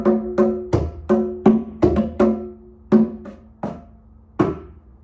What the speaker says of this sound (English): It's pretty westernized version of an African drum.